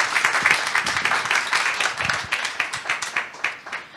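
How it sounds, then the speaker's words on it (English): An audience applauds after live piano music at an afternoon program, with clear individual hand claps forming a lively, moderately loud patter that runs steadily to the end. "Can we have another round of applause?"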